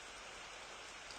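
Steady rain falling in the pixel-art RPG Maker game Our Monsoon Balcony, a dense, even hiss of rainfall with no breaks, fairly soft and heard alone.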